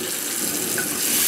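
A faucet running at full pressure into a shallow acid-stained concrete sink, a steady close hiss of gushing water with little variation.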